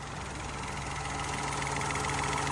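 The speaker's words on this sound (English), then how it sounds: "Engine's running really well," A Citroen 1.2 PureTech petrol engine idles steadily after an oil pump replacement, giving a close, even, continuous hum with a fine regular pulsing throughout and no talk.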